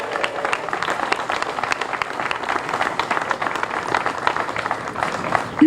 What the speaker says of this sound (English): Can we celebrate that with a nice round of applause,